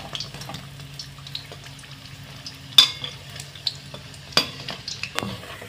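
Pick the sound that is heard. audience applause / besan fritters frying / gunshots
besan fritters frying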